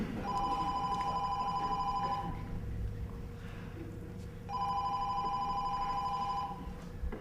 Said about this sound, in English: Will you get the phone?